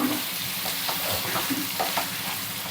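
Soya chunks (meal maker) are stirred into a sizzling potato curry in a pan: a brief, close stretch of constant frying hiss with soft stirring scrapes, no voices.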